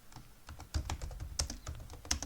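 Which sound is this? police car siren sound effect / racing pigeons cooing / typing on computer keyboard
typing on computer keyboard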